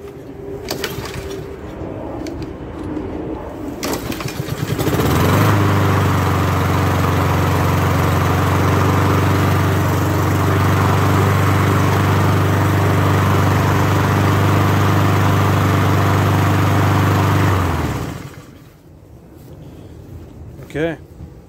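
A Honda push mower with an auto choke and a freshly cleaned carburetor starts and runs loud and steady close by for about twelve seconds, then cuts off. A voice talks before it starts, with faint birds in the background.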